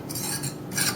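A fork scrapes and fluffs sugar in a bowl for pizza dough, giving a close gritty rasp in two quick strokes.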